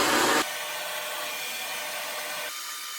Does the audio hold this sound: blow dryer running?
yes